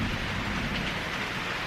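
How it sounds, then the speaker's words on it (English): Rain falls steadily near a porch as an even, dense hiss that fills the whole moment, with a soft low rumble beneath and no voices. "We're going to have to see how far the rain comes up"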